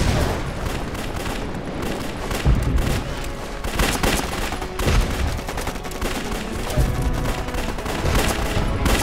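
Dense, continuous gunfire from a war film battle involving Japanese soldiers, with rapid overlapping shots and machine-gun bursts, loud and sustained throughout, without pauses.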